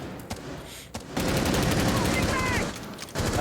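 Rapid gunfire in a competitive shooter video game, a sustained loud burst of shots lasting a couple of seconds after a few scattered pops, with a voice talking over parts of it.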